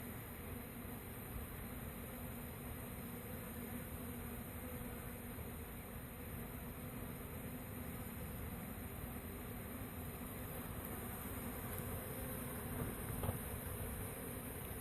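A honeybee swarm being hived outdoors, a steady dense buzzing drone of many bees that holds evenly throughout, with no voices.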